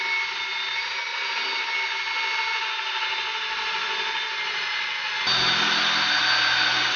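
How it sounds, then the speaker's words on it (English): A power drill boring through the center of a part while working on a 2006 Jeep Grand Cherokee 5.7L WK lift kit install, a steady high motor whine that shifts louder and rougher near the end. "So, drilling right through the center of this right here"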